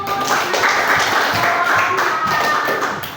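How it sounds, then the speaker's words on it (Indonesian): A classroom of fifth-grade pupils claps for a group after its presentation, a dense, steady patter of many hands filling the room, with some voices mixed in. "beri tepuk tangan untuk kelompok 1"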